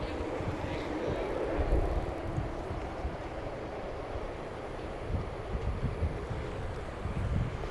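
A Boeing Dreamliner jet from Taipei rumbles at DFW Airport at night, a broad, steady engine roar with low rumbling texture, sustained and moderately loud.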